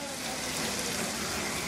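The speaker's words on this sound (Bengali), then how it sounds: "যথেষ্ট পরিমাণ পানি দিব" Water goes into a pan of frying soy-sauced winter vegetables for noodle soup, a loud continuous hiss and bubbling rush that holds steady.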